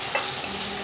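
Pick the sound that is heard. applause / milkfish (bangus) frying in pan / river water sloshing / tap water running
milkfish (bangus) frying in pan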